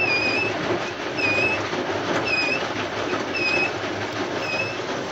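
An Asko W6464 washing machine in its cool-down phase, filled with cold water, gives a steady, fairly loud whooshing hum with a faint high squeak recurring about once a second.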